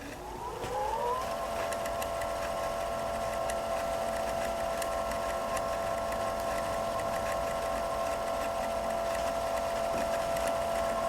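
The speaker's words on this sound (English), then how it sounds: "Hit the foot control, and it'll start winding." A Viking Opal 690Q sewing machine winds a bobbin; the motor spins up with a rising whine in the first second, then holds a steady, close, even mechanical hum with a faint ticking texture, and no voices.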